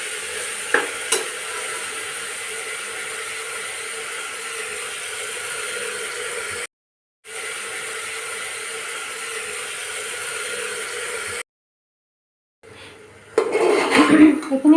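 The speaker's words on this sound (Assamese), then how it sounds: "এইটো ভাজি থাকিম এতিয়া, যেতিয়ালৈকে ভালদৰে ভাজ খোৱা নহয় তেতিয়ালৈকে" Mutton is fried and stirred in a pan, a steady sizzle running throughout, broken by two short silent gaps. Near the end it gives way to louder scraping and clattering.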